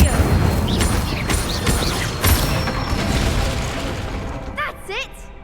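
Incendio, a fire spell in Hogwarts Legacy, is cast against a training dummy, giving a run of loud crackling blasts and sharp bursts, with a few high whistling effects near the end.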